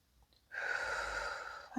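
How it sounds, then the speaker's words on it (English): A gentle, slow breath from a person during a guided relaxation exercise, heard alone and close after a short silence, a soft airy exhale lasting over a second. "So we're going to take one final gentle breath"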